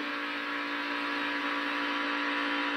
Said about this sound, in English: heard the truck bottom out just a little bit there